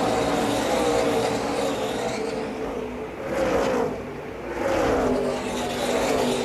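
NASCAR Xfinity race cars roar down the backstretch at Charlotte, a loud sustained engine drone with pitch shifts as cars close in and pass, swelling and fading in waves.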